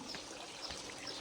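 Small waterfall feature spilling into a private pool, a steady close pouring and trickling wash of water, faint and continuous with no talk.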